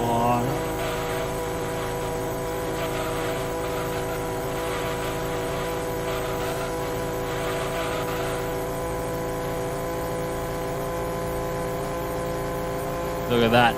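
A car engine in Gran Turismo 2 screams steadily at high revs, bouncing against the rev limiter at around 9,500 RPM, with a loud, sustained buzzing drone and a brief voice speaking near the start.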